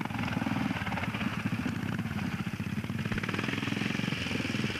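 A rigid speedway motorcycle, a JAP engine in a Matchless rolling chassis, races on a grass track: a continuous rapid engine rasp, fairly distant and steady, with no talk over it.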